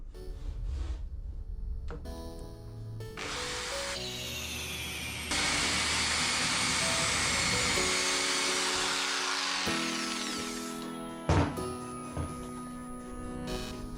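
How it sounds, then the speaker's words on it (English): Power tool cutting through the plastic of a Milwaukee Packout case, a loud sustained whine that holds steady for several seconds and then cuts off, with a few knocks and handling clunks around it. "flip it over and give it a quick cut on the other side as well"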